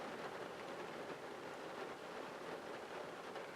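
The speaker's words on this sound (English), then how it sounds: "Now we've got a pretty good rain coming down." Steady rain pours down in the desert, a dense, even hiss of drops that fills the whole clip without a break and with no voices.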